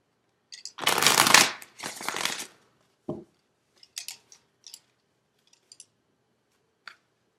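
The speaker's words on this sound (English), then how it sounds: "One more shuffle." Tarot cards shuffled by hand in two long, loud riffling bursts, followed by a few short, soft taps and clicks as the deck is squared, with no talking.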